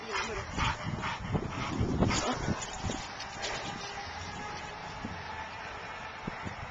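A pet dog yips, barks and whimpers in short excited bursts during indoor play, fairly close and moderately loud, with people's voices mixed in around it.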